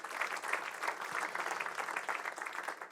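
Audience applauding at a regional conference round table on building material reuse, dense continuous clapping from a crowd, steady and fairly loud throughout.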